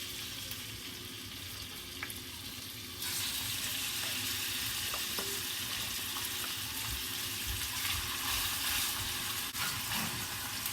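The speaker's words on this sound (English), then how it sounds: "So then we fry the bacon." Steady crackling sizzle of bacon frying in hot oil, a dense hiss that grows louder partway through, with no one talking.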